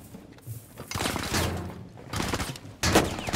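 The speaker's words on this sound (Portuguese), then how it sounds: "Pera aí que eu tô tomando tiro, não sei de onde" Bursts of gunfire in a Rainbow Six Siege match, several rapid volleys and thuds in quick succession, fairly close and loud, with sharp impacts near the start and end.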